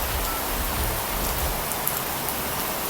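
Heavy rain in the mobile game Ark Mobile falls as a dense, steady hiss of downpour, continuous and fairly loud, with no voices.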